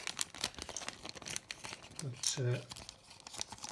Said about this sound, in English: what I'm going to do is pop them in a plastic bag